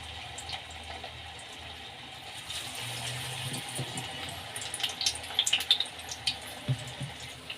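Leftover idli and dosa batter snacks dropped into hot oil on a stove give a steady, fairly quiet hissing fry, with a cluster of sharper crackles and pops toward the end.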